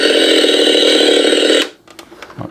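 A Trick or Treat Studios replica of the 1974 Texas Chainsaw Massacre chainsaw runs with a loud, steady buzzing drone for about a second and a half, then cuts off abruptly, leaving faint rustling and handling noise.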